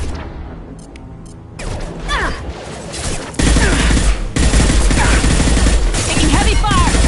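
Heavy sustained gunfire in a PS4 war video game: dense bursts of automatic fire and explosions, building from a quieter start to a loud, continuous barrage with shouting mixed in.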